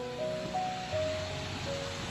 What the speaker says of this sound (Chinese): 底下就能听到这个浪声